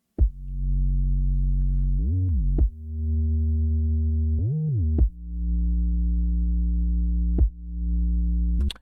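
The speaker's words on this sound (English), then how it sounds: "Now you can hear that typical EDM dipping bass sidechain" A deep sustained EDM synth bass, sidechain-compressed, swells back up after each sharp click-like hit, giving a pumping, ducking rhythm with no voices.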